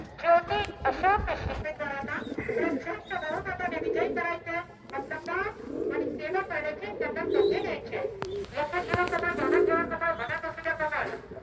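Punjabi pigeons coo repeatedly in low, rolling bursts, close by, with someone talking over them much of the time.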